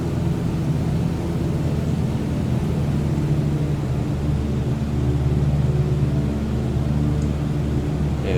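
Cessna 152 piston engine droning steadily at reduced thrust in Microsoft Flight Simulator, a continuous loud hum with broad rushing noise and no talking.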